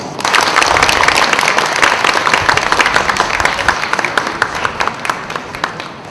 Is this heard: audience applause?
yes